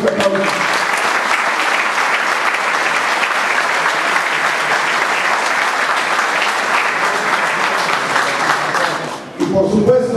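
A crowd at a cultural evening in Ciudad Madero applauds the trio Fascinación Huasteca, loud continuous clapping for about nine seconds before it stops abruptly.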